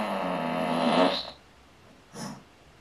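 A long, loud, buzzing cartoon fart from Family Guy, close and sustained for over a second before cutting off, followed by a short muffled sound after a pause.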